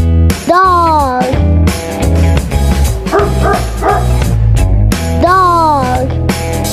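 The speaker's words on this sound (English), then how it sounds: "Dog." A dog barks in repeated loud, close yips and bow-wows, with whining, pitch-bending cries at the start and end and a quick cluster of barks in the middle, with no talking.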